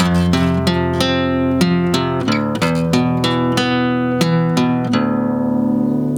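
Acoustic guitar picking through chords of a song one note at a time, a steady run of plucked strings ringing into each other, ending on a sustained chord.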